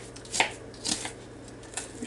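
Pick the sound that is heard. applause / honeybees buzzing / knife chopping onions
knife chopping onions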